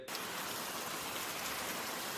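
Steady, dense hiss of rain falling, even and continuous with no breaks, fairly loud and close.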